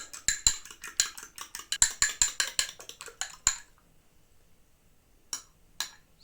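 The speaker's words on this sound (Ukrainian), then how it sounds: "А тепер візьму яйця і теж вилочку гарнесенько так переб'ю їх." A fork beats eggs in a bowl with quick, regular clinking taps for several seconds, then stops, followed by two final taps.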